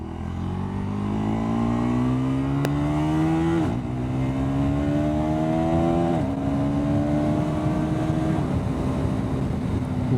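A KTM Duke 390 motorcycle pulls hard along a road, its engine note climbing through several gears with brief drops at each shift, loud and close throughout.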